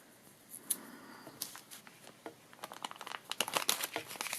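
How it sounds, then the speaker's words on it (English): Double-sided tape being handled and pressed onto a black and gold sequin craft project, heard as close, quiet crinkling and tearing bursts that grow busier and louder toward the end, with no talking. "I'm going to go ahead and put a new piece of double-sided tape across there"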